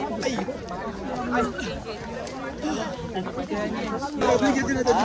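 A dense crowd chatters while climbing Raigad fort during the coronation festival, many overlapping voices forming a continuous close babble.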